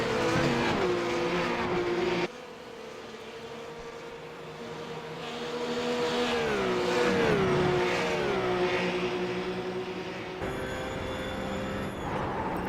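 Race cars in a racing video game at Road Atlanta, engines droning and shifting pitch steadily throughout, with revving swells, a sharp drop near the start and tire noise, no talking.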